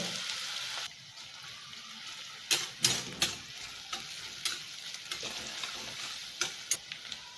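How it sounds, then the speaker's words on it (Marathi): Finely chopped onion fries with cumin in a pan, a steady close sizzle with scattered sharp crackles and spoon stirs across the whole stretch, no voices. "एक मोठ्या आकाराचा कांदा बारीक कापलेला फ्राय करून घ्यायचा थोडासा सोनेरी होईपर्यंत"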